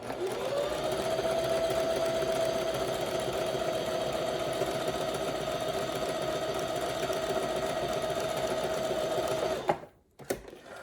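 A sewing machine stitches fabric for a one-piece garment, running at a steady, loud, continuous whir for about nine seconds before stopping abruptly, followed by a couple of faint clicks.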